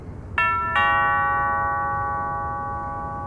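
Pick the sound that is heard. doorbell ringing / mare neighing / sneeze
doorbell ringing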